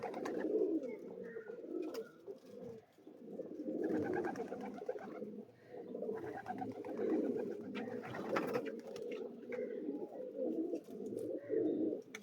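A flock of fancy pigeons coos continuously nearby, a layered low burbling that swells and dips in waves without pause, with no voices.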